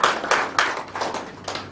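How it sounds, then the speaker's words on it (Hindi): A single person clapping hands at a gathering, several sharp claps spaced unevenly at close range, no talk over them. "मैं एक बार ताली आपके लिए बजाना चाहूंगा।"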